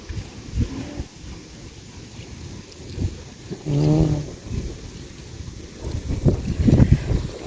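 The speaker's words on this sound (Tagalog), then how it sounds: "Napakasamang weather ngayon guys." Gusty wind on Santorini buffets the microphone with low rumbling roars that swell and fade, loudest toward the end, with faint distant sounds beneath.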